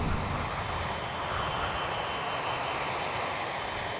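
Engines of a severely damaged, overweight Boeing 747 airliner running on just two engines on final landing approach, a steady broad roar and rumble that holds constant and fairly loud throughout, with no voices.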